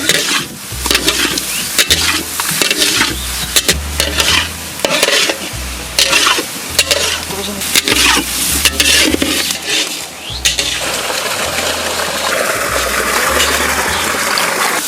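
Tomatoes go into a spiced frying pan in a large kitchen cooking for fifty, with loud rhythmic stirring and scraping over a continuous sizzle that settles into steady frying near the end.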